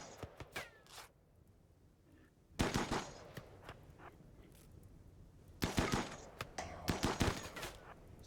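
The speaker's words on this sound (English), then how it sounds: "They're shooting at us now." Bursts of gunfire in the colony game Rimworld: a few scattered shots first, then two loud volleys of rapid, crackling fire separated by a quieter lull.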